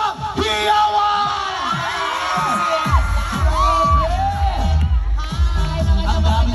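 Crowd cheering and shouting at a riverbank gathering with a film cast, loud excited yells and whoops rising in bursts over music, close and energetic throughout.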